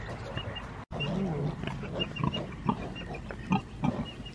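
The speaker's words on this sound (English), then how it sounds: "Today we are catching baby pigs, well, the boy baby pigs, to put them inside a cage." Baby piglets squeal and grunt while being caught on a homestead, high, urgent cries in short bursts close by, with rustling and movement throughout and a brief cut near the start.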